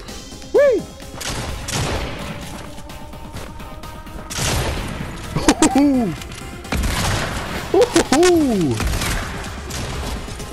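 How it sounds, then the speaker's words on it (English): Rifle shots from the Fortnite video game ring out in a few scattered bursts with sharp cracks and whooshing, ringing effects, alongside other game noise and nearby speech. "Why were you using a rifle?"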